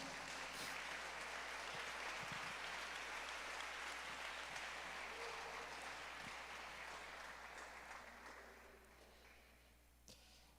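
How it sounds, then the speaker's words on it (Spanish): A church congregation applauds loudly in a steady, dense wash of clapping that continues for several seconds before gradually fading away. "Puedes darle un fuerte aplauso al Señor."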